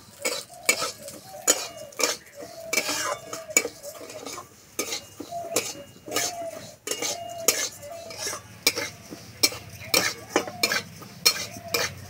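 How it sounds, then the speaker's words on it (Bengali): Moong dal being stir-fried in a little white oil in a wok, with steady rhythmic scraping and clinking of a spatula against the metal over a soft background sizzle, close and continuous with no speech. "ডালটা একটু লাল লাল করে ভেজে নেব।"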